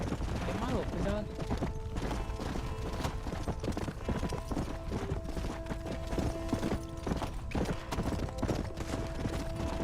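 Rapid hoofbeats of a galloping horse in Red Dead Redemption clop steadily throughout over busy game sounds and music, with a voice talking intermittently.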